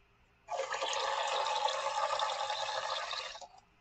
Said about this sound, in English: I usually pull some water up into the plunger, attach the tip, and then flush it